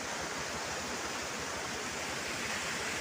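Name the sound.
Periyakanal waterfall at Chinnakanal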